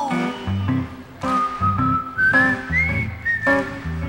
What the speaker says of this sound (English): Whistle with me.